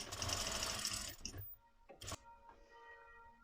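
A sewing machine runs along a corset seam while boning goes in, a steady near whir for just over a second, then a brief second burst amid quiet handling.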